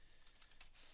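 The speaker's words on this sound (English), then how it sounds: "So you can type out here any number." Computer keyboard keys tapped in a quick, close burst while numbers are typed into a war selection map editor, soft clicks alone in a quiet room.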